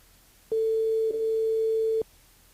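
A single telephone tone sounds during a call to a switchboard that goes unanswered, one steady electronic beep lasting about a second and a half, loud and close, alone without talk.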